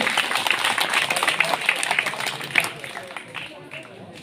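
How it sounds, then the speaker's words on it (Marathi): A crowd at a village Independence Day prize-giving claps in dense, steady applause that slowly thins and fades toward the end, with some voices mixed in. "सर्वांनी जोरदार टाळ्या वाजवायच्या आहेत"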